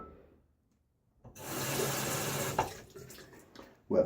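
Water splashes and sloshes in a sink as a face is wetted before a shave, a steady wet burst of about a second and a half after near silence, then fading, with a short splash at the end.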